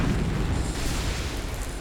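Bombs exploding in the War Thunder game during an RAF strike on the battleship Yamato: a dense, rumbling roar of blasts blending together, steady and moderately loud for under two seconds.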